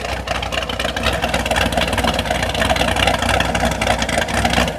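An LS-powered Chevrolet Caprice police car runs with its exhaust heard from the rear, a steady, fairly loud engine drone with a slight lumpy pulse throughout.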